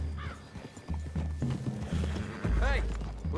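A horse in the video game Skyrim, with hoof clip-clops and a couple of rising whinnies heard close under a man's speech, alongside low thuds from the game.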